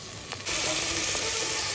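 Masala paste with millet flour frying in oil in a wood-fired kitchen, a brief stir and then a loud, dense, close sizzle hissing steadily to the end.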